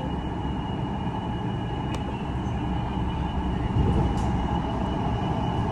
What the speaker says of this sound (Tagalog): Look, may train pa isa.